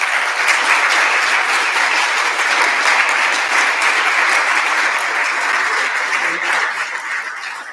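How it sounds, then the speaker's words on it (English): Loud, continuous applause from an audience at a foreign relations council talk, dense and steady clapping that tapers off slightly at the end. "Please, one more round of applause for them."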